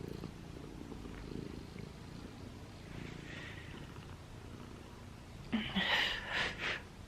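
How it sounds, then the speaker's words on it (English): A house cat purrs softly and steadily at close range for several seconds, a low continuous rumble that swells slightly louder and rougher toward the end. "She purring."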